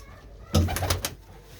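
Pigeons of fine breeds kept by a fancier in Mandi Gobindgarh give a short burst of soft, throaty cooing, several close overlapping coos lasting about a second.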